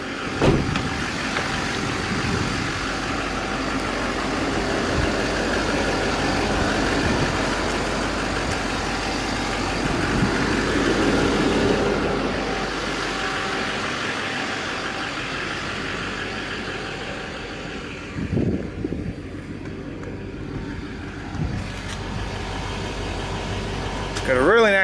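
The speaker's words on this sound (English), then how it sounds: "Got a really nice sounding engine." A 2009 Chevrolet Silverado 3500HD Duramax diesel pickup engine idles with a steady low rumble, occasional revs and mechanical clunks, with a quieter stretch near the end.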